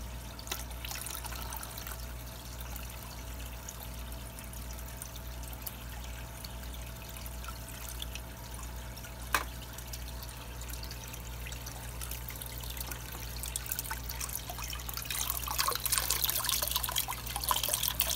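Water being drawn out of a reef aquarium tank, a soft continuous trickle and pour with occasional drips over a steady low pump hum, growing a little louder near the end, no talking.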